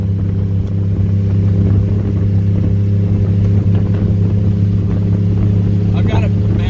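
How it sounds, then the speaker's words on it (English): An old junkyard car's engine runs steadily while driving at high revs, a loud, continuous droning hum with a slight rattle, heard close up from inside the car with someone talking over it. "this is the least amount of engine clatter of any of the vehicles there that run"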